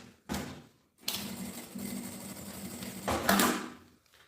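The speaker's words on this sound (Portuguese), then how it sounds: "vou passar a costura aqui" A sewing machine stitching a gym bag strap runs in short bursts, a close, steady mechanical whir with pauses between the runs.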